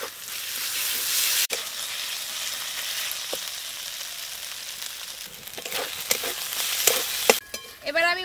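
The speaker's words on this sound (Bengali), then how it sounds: "আর পেঁয়াজটা একেবারে লাল করে ভেজে নেব। এবার দেব আদা বাটা।" Onion fried until red in a pan, with ginger paste going in, gives a continuous soft sizzle close by and occasional sharp clinks and scrapes of a spatula, steady and moderate in level, with no talking.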